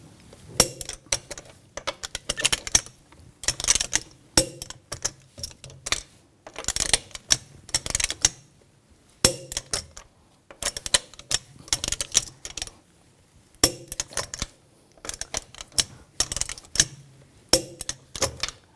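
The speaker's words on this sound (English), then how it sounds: "Now we're going to torque those lug bolts to 111 foot-pounds in a cross pattern to tighten the wheel down evenly" A torque wrench ratchets lug bolts down to 111 foot-pounds in a cross pattern on the wheel of a 2000-2006 BMW X5. Short bursts of rapid mechanical clicking repeat about eight times, separated by brief quiet gaps.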